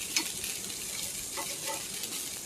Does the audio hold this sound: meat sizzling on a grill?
yes